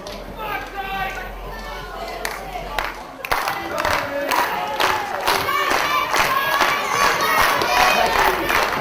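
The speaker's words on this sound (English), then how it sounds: "Crowd now rallying behind Aviv Maayan, who makes his way in a single bound to the top rope" Wrestling crowd at a live show cheering and chanting in rallying bursts, loud and sustained, with shouts and rhythmic crowd noise swelling throughout.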